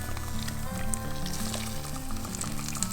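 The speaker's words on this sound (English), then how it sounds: "add the cream." Cream poured into a hot pan of mussels cooking in white wine for moules marinières, giving a steady loud sizzle and bubbling frying noise, with no voices.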